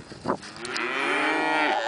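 Cattle on a ranch with cows and calves: a brief lower grunt, then one long, drawn-out moo that swells and holds, loud and near, with no voices.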